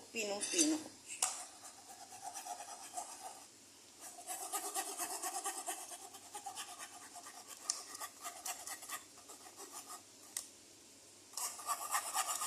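Finely ground chicken butter mixture being pushed through a metal strainer, with repeated scraping and rubbing of a spoon against the mesh in bursts and short pauses, close and fairly quiet.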